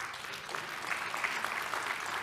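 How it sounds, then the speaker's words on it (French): An audience at an award ceremony applauds continuously, a dense, even clatter of many hands clapping that holds steady and grows slightly fuller toward the end. "je vous demande de les applaudir"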